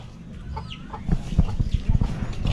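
A chicken clucks in short, irregular bursts close by outdoors, its calls rising in loudness toward the end, with faint background noise between clucks.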